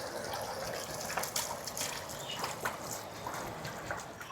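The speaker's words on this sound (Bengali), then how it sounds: "এবার দিয়ে দেবো পরিমাণ মতো জল" Water is poured into simmering fish curry gravy in a pan, a continuous close gushing, splashing pour with bubbling liquid texture throughout.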